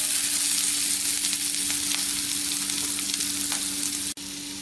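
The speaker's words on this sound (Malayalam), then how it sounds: "ഇതിനി ഇളക്കി വഴറ്റാം." Chopped ginger, garlic and green chilli sizzle steadily in hot oil in a pan, a close, continuous frying hiss with light stirring, briefly cut near the end.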